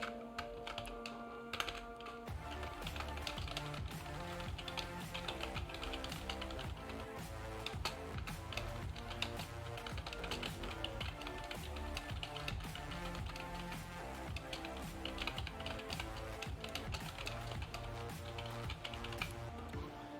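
Sentence being typed on a computer keyboard, a dense, steady run of close key clicks and taps that continues throughout with no speech.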